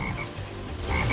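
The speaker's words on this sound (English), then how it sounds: "There's a frog over there!" Frog croaking in the Sonic Heroes video game, a couple of low croaks at the start and end over a steady game ambience, fairly close.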